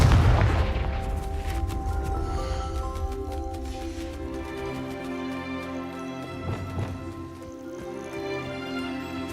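In the video game Hogwarts Legacy, a Confringo blasting spell detonates as a loud, close explosion at the start, its deep boom decaying over a second into a sustained tonal game score with fainter crackles.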